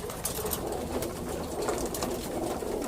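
Racing pigeons coo inside a loft, a soft, continuous run of overlapping throaty calls at close range with no talking.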